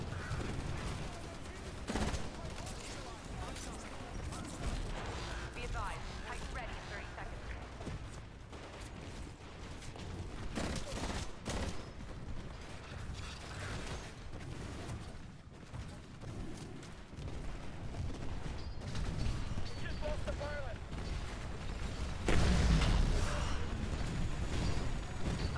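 Sustained gunfire from the Titanfall shooter, likely Hemlock rifle bursts among other weapons, crackling densely and continuously over a busy game mix with a heavier burst near the end.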